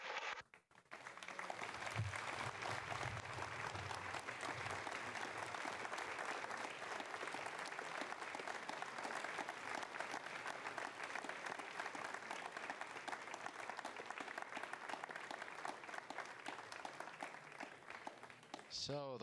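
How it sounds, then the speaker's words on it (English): Applause from the launch control team at Jupiter during an Ariane 5 rocket launch, a long, dense, sustained round of clapping from a sizable group heard at a moderate distance, with some talk underneath. "you heard the applause from the people here in Jupiter"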